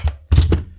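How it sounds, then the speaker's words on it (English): A Milwaukee pneumatic nailer firing empty without driving nails or staples, three short dull thunks close up, the last two in quick succession. "She's firing, she's just not putting out any nails or staples"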